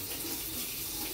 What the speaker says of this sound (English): Sorry, the water's gonna go on.